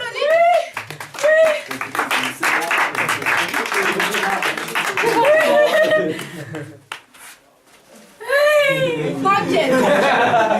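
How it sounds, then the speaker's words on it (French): A small theatre audience applauds a contestant called up at a live show: bursts of clapping mixed with lively voices and a host talking, with a brief quiet gap near the end. "Oui, bonjour, on applaudit."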